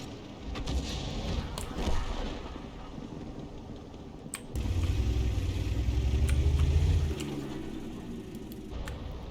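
Conqueror gun carriage artillery in a video game: engine rumble and mechanical clatter with sharp transient bangs, a deep heavy roar swelling in the middle before settling back to a steady drone.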